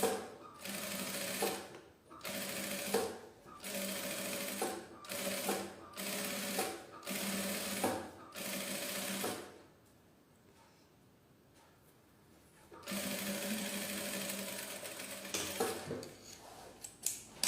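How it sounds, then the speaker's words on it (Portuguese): A sewing machine stitching fabric for a large tote bag runs in repeated short bursts with quick stops, goes quiet for a few seconds, then resumes with a longer steady run. The sound is close and clear. "Costurou de um lado, é só virar e costurar do outro."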